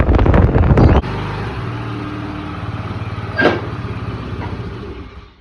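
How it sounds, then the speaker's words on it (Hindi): Cold wind blows outdoors as a steady, rushing roar over the microphone, with a low engine-like hum underneath and a brief louder burst at the very start. "बहुत ठंडी हवा चल रही है"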